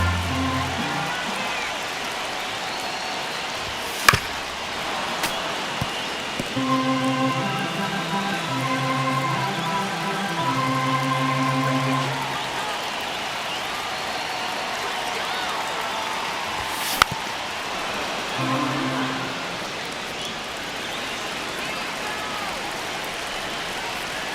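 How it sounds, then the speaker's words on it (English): A stadium crowd in the baseball video game MLB The Show 25 murmurs steadily through a tight ninth inning, with an organ melody playing over it and a couple of sharp cracks rising above the noise. "Crowd locked in right now."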